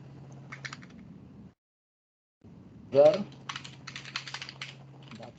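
Typing on a computer keyboard during a Java programming lesson, a rapid run of close, crisp key clicks following a brief spoken word, with a pause of silence before it.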